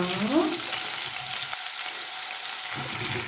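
Large potato wedges, each spud cut into about six pieces, fry in a pan of oil. A soft, steady sizzle comes with an early scrape of stirring, fairly faint and without speech.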